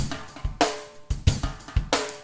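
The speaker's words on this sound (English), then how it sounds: "So the original drums sound like this," An original drum-kit recording of punchy kick hits and bright snare or cymbal crashes in a steady groove. It is loud and close-miked, with no voices.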